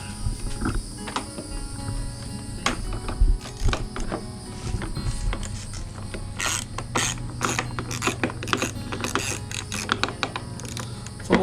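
A ratchet wrench clicks bolts on the cowling of a 2017 Suzuki 300 HP outboard, with bursts of rapid pawl ticks and metallic handling noises, close up and without talk.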